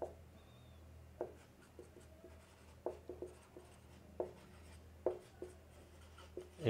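Chalk or marker strokes on a board while a definition is being written during a physics lesson, coming as sparse, short taps and scratches at an irregular pace, fairly close and faint, with no talking.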